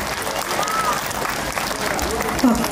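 A school audience at a Prarthana International School event claps, a steady wash of applause running throughout at moderate level, with a few voices mixed in.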